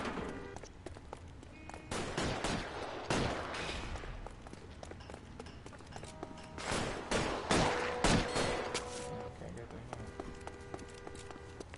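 Tommy gun fire in the crime game L.A. Noire crackles in scattered bursts and sharp volleys amid a busy shootout, with voices heard in the mix.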